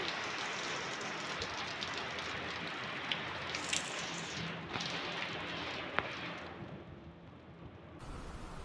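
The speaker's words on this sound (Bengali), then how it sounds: "এখন আবার শুরু হয়েছে এই যে বৃষ্টি" Rain on the Andaman Islands falls in a dense, even hiss with scattered louder drips and taps, steady and moderately close for most of the stretch before easing toward the end, with no talking.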